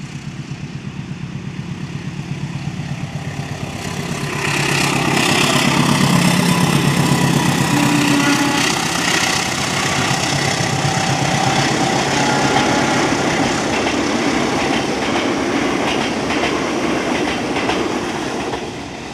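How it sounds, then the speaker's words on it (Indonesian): Two passenger trains, the Pasundan Tambahan and the Cikuray, cross at Haur Pugur station. Loud, steady rumble and clatter of rolling cars runs throughout, swelling after a few seconds with engine drone and no talk. "kita lihat ke Pasundan Tambahan menyilang ke Cikuray ya"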